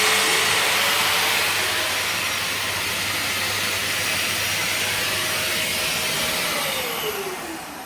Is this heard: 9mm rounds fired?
no